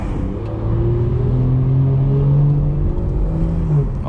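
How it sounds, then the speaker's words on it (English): Car exhaust revving loudly and close, a steady droning engine note with rising and falling pitch sweeps as the throttle climbs and eases over a constant rumble. "This video is gonna be pretty much straight exhaust sound"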